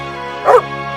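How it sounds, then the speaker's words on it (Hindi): A dog barks once at a man, a short sharp yelp that rises out of a sustained musical backdrop and quickly fades. "शेरू उस आदमी को देखकर भौंकता ही जा रहा था।"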